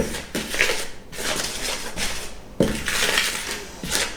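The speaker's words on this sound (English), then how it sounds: "all I'm going to do is going to get a wooden spoon, let's give that a mix up all those ingredients" A wooden spoon stirs dry dough ingredients, flour and spices for vegan hot cross buns, in a bowl, giving close, gritty scraping swishes in repeated strokes with soft knocks against the bowl.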